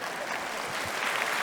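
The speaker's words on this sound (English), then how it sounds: "clap your hands" Audience applause at a talk by a freelancer, a steady dense wash of many hands clapping at moderate volume throughout the short burst.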